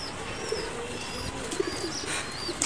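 Pigeons kept on a rooftop give soft, scattered coos and faint chirps over a steady outdoor hiss, with no one talking.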